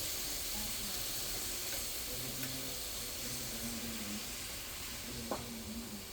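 Bacon, sausage and onions sizzle in a pan of bacon and sausage drippings, giving a steady broadband hiss that stays even throughout, with faint muffled talk in the background.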